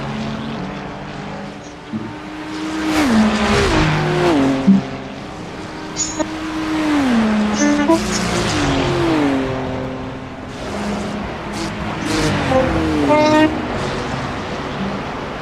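Loud racing engines of GT3 cars, including a BMW, roar and whine through gear shifts as cars pass close by in a video game at Road Atlanta, pitch sweeping up and down, with faint talk underneath.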